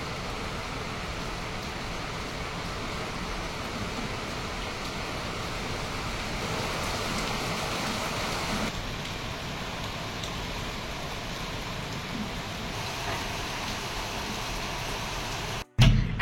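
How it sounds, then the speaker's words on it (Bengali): Heavy rain falls steadily outside a house, making a dense, continuous hiss that stays at an even level for the whole stretch before cutting off abruptly with a brief thump at the end. "আবার জমজমিয়ে বৃষ্টি নামছে"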